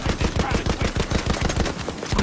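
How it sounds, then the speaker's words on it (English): Dense, continuous automatic gunfire in the shooter game Battlefield 1, rapid overlapping shots with heavy low-end thumps, loud and close throughout with no pauses. "I don't know who's shooting. I'm gonna shoot."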